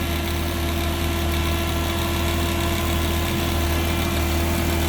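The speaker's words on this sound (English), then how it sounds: "It does have an electric fan you can hear running there" Steady electric cooling fan whirring in the engine bay of a 1965 Ford Mustang coupe, blended with the smooth idle of the engine, continuous and close for the whole stretch.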